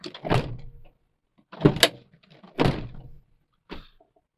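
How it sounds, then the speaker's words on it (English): A modern car door is shut four times in a row, each a solid, close thunk with a short rattle, separated by brief silent gaps. "that's how I close the doors"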